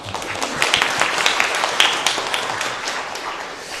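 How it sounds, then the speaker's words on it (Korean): Church congregation at a founding-anniversary Sunday service clapping, a moderately loud, dense patter of many hands that fades slightly toward the end. "박수 한번 하겠습니다"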